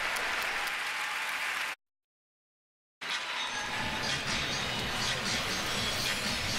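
Figure skating fans at the 2016 World Championships applaud and cheer after the men's short program, a dense wash of crowd clapping that breaks off briefly in the middle, then returns at full strength.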